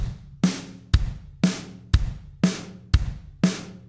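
Programmed drums with kick and snare alternating, each hit doubled by a closed hi-hat; seven steady, evenly spaced strikes with bright sizzle on top, close and unaccompanied.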